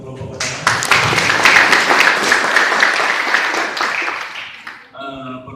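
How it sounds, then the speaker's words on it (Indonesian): An audience at a university group presentation breaks into loud applause, sharp dense clapping that starts abruptly, sustains for about four seconds, then fades as a voice resumes speaking. "Mari kita beri aplaus untuk kelompok pertama"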